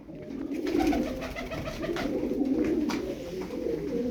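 Eleven Turkish tumbler pigeons, mostly female, coo continuously in low, throaty tones, several birds close by with a steady murmuring rhythm.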